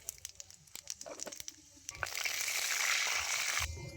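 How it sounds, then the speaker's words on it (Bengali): Bay leaves and panch phoron hit hot mustard oil in a kadai: a few faint crackles and pops, then a sudden soft burst of sizzling that lasts about a second and a half and then stops. "এবারে দিয়ে দিচ্ছি আমি তিনটে তেজপাতা অল্প পাঁচ ফোড়ন"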